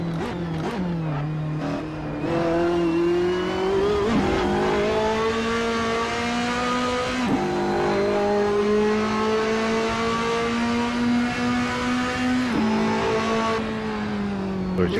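Race car engine in Assetto Corsa, played online in VR, revving hard through the gears with sharp upshifts and rising, buzzing harmonic tones, loud and continuous with brief dips at each gear change.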